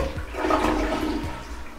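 A hotel room toilet flushes with a loud rushing gush of water that swells and then drains away steadily, close by and with no talking.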